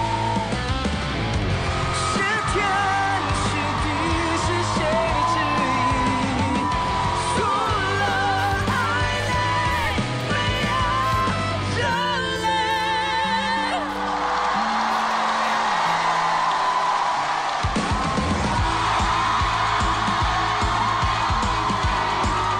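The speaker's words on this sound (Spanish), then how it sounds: "se escuchan mucho los gritos del público y poquito lo que cantan" Concert audience at a large live performance in a mall-like venue screams and cheers loudly throughout, the crowd noise mixed with amplified music and singing; someone talks over it at times.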